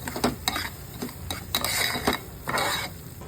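Semolina roasting in a pan, a spoon knocking and scraping through the dry grains in uneven bursts over a light sizzle, close and without talk.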